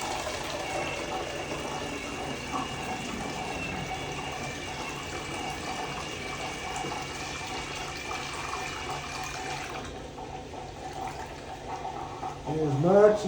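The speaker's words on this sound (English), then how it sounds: "Pour it back into the bottle." Photographic fixer solution poured from a processing tank back into its bottle, a steady liquid gush and trickle running for about ten seconds, then tapering off as the flow thins, with a brief clatter at the end.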